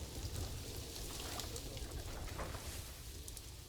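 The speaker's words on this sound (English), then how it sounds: "and of course it's raining." Rain falls steadily in the Planet Zoo video game, a faint, even hiss of drops with occasional soft bird calls in the background.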